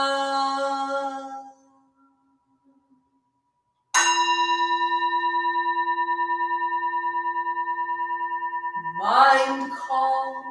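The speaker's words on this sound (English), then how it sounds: "sound of the bell." A meditation bell is struck once and rings with a long, sustained, shimmering tone that slowly decays, following a fading earlier resonance and a short silence; another sound enters near the end.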